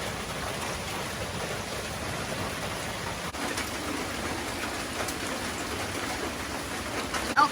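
Rain falls steadily at a Thai temple, a constant close patter on surfaces with no letup.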